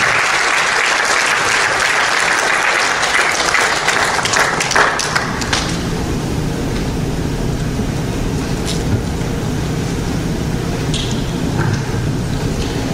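Church congregation at a Spanish-language Christian service applauding for Jesus, a loud, dense wash of clapping at first that thins and fades into softer room sound with scattered claps.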